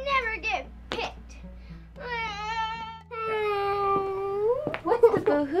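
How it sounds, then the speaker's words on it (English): Cartoon-style crying and boo-hooing from a young pirate boy, a wailing, pitched voice rising and falling in drawn-out sobs with short breaks, close and fairly loud with no other sounds. "What's the boo-hooing I hear?"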